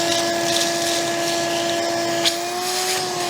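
A vacuum cleaner runs steadily with a whining tonal hum while cleaning out a pipe fitting, continuous and fairly loud at close range, with no speech over it.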